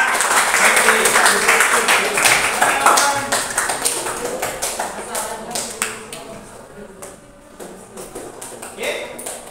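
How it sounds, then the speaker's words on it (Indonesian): Classroom students clap in a burst of applause with sharp taps that thin out and fade, while voices chatter over and after the clapping. "Tepuk tangan buat kalian ya."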